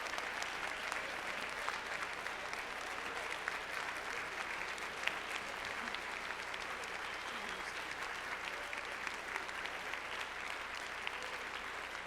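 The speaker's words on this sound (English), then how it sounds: "let's give Dr. Chavonda Jacobs-Young a hand of applause." Conference audience applauding at a plenary session, steady sustained clapping from a large crowd in a hall, even and continuous throughout with no voices standing out.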